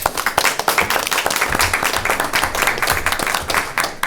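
Audience applause at a school committee meeting as a new student representative from Lynn Tech is welcomed, a dense mix of hand claps with a few sharp individual claps standing out, steady and fairly loud for about four seconds.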